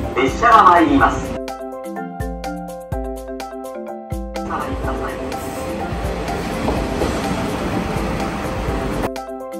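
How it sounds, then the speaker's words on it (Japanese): The Ibusuki no Tamatebako sightseeing train rumbles and clatters into Ibusuki Station, Japan, a steady rolling noise building over several seconds, while a musical chime plays and a voice talks over it. "まもなく列車が参ります。"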